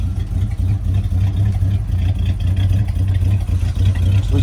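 A 1973 Dodge Charger engine idles set too low, giving a loud, steady, rumbling low-pitched drone with a slightly lumpy pulse that holds throughout, with no talking.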